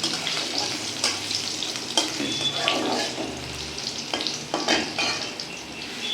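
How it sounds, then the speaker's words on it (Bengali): Potato pieces frying in a pan over medium heat give a steady near sizzle with intermittent stirring clatters throughout. "এটাকে ভালো করে হালকা করে ভেজে নেওয়া হবে।"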